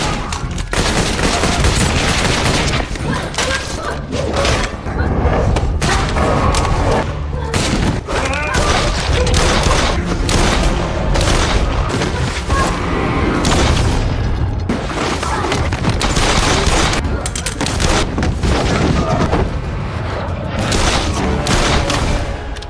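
Loud, sustained gunfire bursts and booming impacts from an Indonesian action film fill the scene, with dense crackling shots layered over music and occasional voices.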